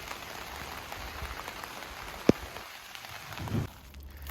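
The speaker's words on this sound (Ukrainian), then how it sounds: "а зараз дощик пройде, трішки свою задачу зробить" Rain shower falling steadily across an open strawberry field, a soft continuous patter of drops with one sharp brief knock midway and a small bump of noise near the end.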